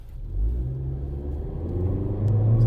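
A 2022 Honda Civic EX with a 1.5-litre turbo and CVT pulls away under hard acceleration, a steady low engine rumble that swells slightly louder toward the end, with no talk over it.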